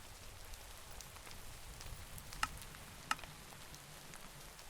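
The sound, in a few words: rain falling, from a video game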